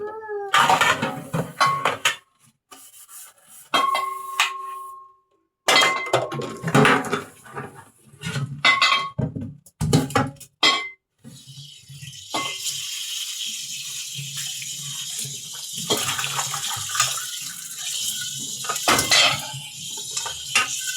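Dishes and a metal cooking pot lid being washed at a sink, with close clattering clinks and scrapes in irregular bursts separated by pauses, then running water in the later part.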